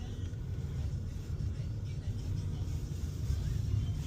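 Automatic-transmission car pulling away in heavy city traffic, a low steady engine rumble from inside the cabin, fairly quiet and continuous with no clear rev peak.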